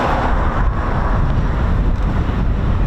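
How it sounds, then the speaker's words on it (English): Heavy wind buffets the microphone outdoors near an RAF station in the UK, a constant loud rumble and roar with no pauses and nothing else audible. "It is extremely windy again."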